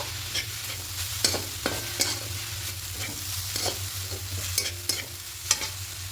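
Grated carrot mixture stirred in a pan for a carrot steamed-cake batter, a steady scraping stir with sharp spoon knocks against the metal over a low hum, soft sizzling underneath and no talking.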